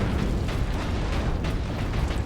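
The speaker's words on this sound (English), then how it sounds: "Grenade." A grenade goes off in a Warhammer 40,000 video game as a dense, rumbling blast that roars on evenly for about two seconds.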